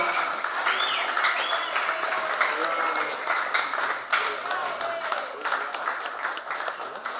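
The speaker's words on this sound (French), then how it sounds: "On continue avec les acclamations, c'est vraiment fort." Loud, sustained applause from a crowd at a certificate ceremony, with scattered cheers, continuing steadily throughout with voices mixed in.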